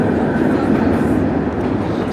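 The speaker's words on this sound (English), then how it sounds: "Just the great, the subway train noise coming up from underneath." A New York subway train rumbles beneath 7th Avenue, a steady low roar lasting the whole stretch, loud and continuous from below street level.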